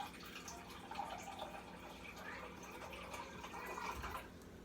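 Water poured from a cup into a sourdough starter, a soft steady trickle and splash lasting several seconds, fairly quiet and close with faint room noise.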